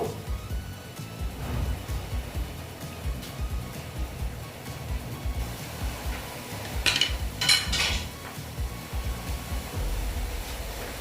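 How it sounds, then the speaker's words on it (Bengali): Pineapple chutney bubbles and hisses in a pan while it is stirred, a steady low cooking rumble with a couple of brief scraping bursts midway. "একটু আমি ওইটাকে নেড়ে টেড়ে নেব"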